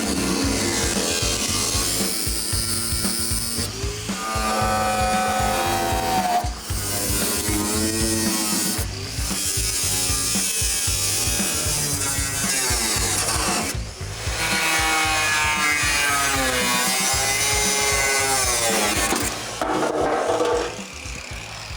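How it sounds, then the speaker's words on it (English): A cutoff wheel slices through the metal of a 1972 Chevy truck, giving off a loud, sustained grinding whine whose pitch bends as the load shifts, broken by a few brief pauses. "I'll probably just end up using a cutoff wheel, and then we'll grind it smooth with a flap disc."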